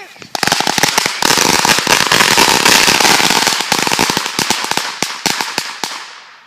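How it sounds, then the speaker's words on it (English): About 300 firecrackers explode in a rapid, loud, dense crackling string for several seconds at a Fourth of July gathering, thinning into scattered final pops before stopping. "We got just about 300 firecrackers right here."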